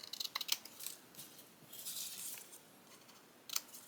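Scissors snip through thin craft material to cut circles, giving faint, close crisp clicks and rustling strokes, with a quiet sliding cut in the middle and a sharper snip near the end.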